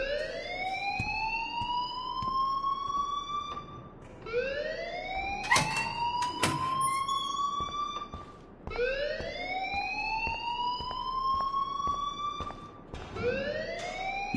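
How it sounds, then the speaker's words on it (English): A wailing alarm in a video game rises and falls in long repeating sweeps, loud and steady, with a few sharp clanks breaking in midway and no voices over it. "please turn off that alarm since that's your job"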